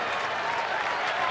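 Crowd at an Orioles home baseball game against Tampa Bay in Baltimore standing and applauding, a steady wash of clapping and cheering that fills the whole short moment without a break.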